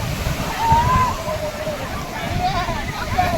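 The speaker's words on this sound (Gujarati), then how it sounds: "દેખો આગળથી છે મોજા ઉછળતા આવે છે" Sea waves slosh and surge continuously close by at the Somnath beach, with people's voices and shouts mixed over the rushing waves.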